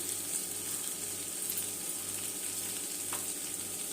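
Grated dry coconut dropping into a hot pan with oil, a steady close sizzle and frying hiss running alone without pause.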